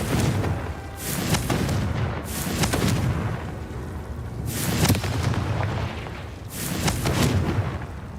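Four heavy spell blasts go off in Hogwarts Legacy, each a loud booming explosion with a sharp onset and a rumbling tail, spaced a second or two apart over a dense ongoing battle din.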